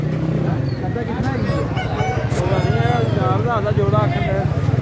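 Several roosters crow and hens cluck in a noisy crowd at a bird market, with people chattering and calling out throughout.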